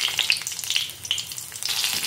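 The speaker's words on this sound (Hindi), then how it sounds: "अब मैं इसमें हरा मिर्च डालूँगी" Green chillies sizzle and crackle in hot oil in a wok for a mixed vegetable sabzi, a busy close frying hiss with sharp pops scattered throughout.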